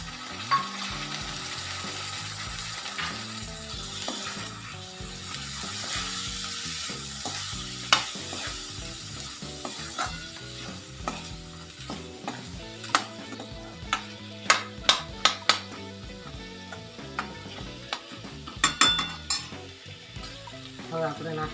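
Black chickpeas frying with red chili powder and spices in a pan for a curry: continuous sizzling, with repeated sharp scrapes and clicks of a spoon stirring, growing busier toward the end.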